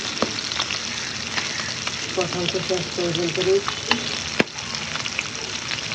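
Tengra fish frying in oil in a pan, a steady close sizzle that runs throughout, with a brief stretch of speech over it midway.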